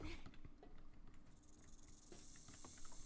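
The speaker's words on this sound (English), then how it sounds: "I hear a snake!" A snake hissing in the video game 7 Days to Die, a faint, steady airy hiss that swells toward the end under low game ambience and soft clicks.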